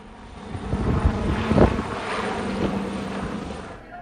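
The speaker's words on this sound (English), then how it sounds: "I saw this helicopter just taken up. It was a police helicopter actually" Low rumbling engine drone of a police helicopter passing fairly close, with gusty wind noise buffeting the microphone throughout.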